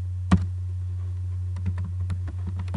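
Keys on a computer keyboard are typed to enter a DOS command: sparse, light clicks that speed into a quicker run of taps, close by over a steady low hum.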